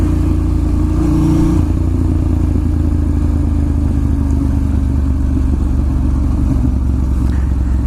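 A Ducati Monster S2R 1000 is ridden to work, its engine droning steadily and loudly with a deep low rumble and wind noise throughout.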